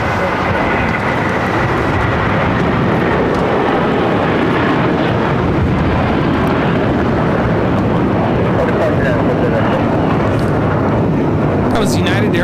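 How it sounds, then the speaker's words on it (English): A United Airlines Boeing 757-300 takes off, its jet engines a loud, broad, continuous roar filling the whole stretch, with people talking under the noise. "That was United Airlines 1431 taking off to Honolulu on the 757-300."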